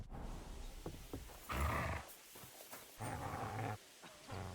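A dog growls in a video game, in low rumbling bursts of snarling with short pauses between them, close and fairly loud over a quiet background.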